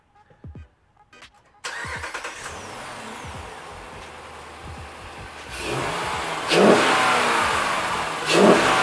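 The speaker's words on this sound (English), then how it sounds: "Sounds like a Hemi." A 2012 Jeep Grand Cherokee 5.7 HEMI with a cold air intake fires up after a few clicks, settles into a rumbling idle, then revs hard twice with loud rising bursts, close by.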